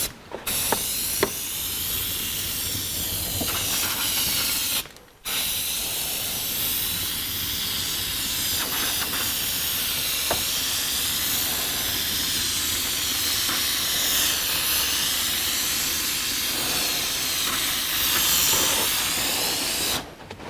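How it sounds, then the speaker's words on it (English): A spray gun hisses continuously as base coat goes onto the tub of a 1982 Jeep CJ7, a loud, steady airy rush close by with brief stops between passes. "Here we go with the first of 3 to 4 coats of base coat depending upon coverage."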